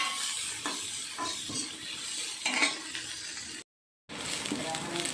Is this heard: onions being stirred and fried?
yes